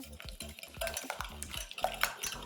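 Pancake batter with maple syrup and sugar is whisked in a bowl, a rapid rhythmic series of tapping, scraping strokes close up, with no talk.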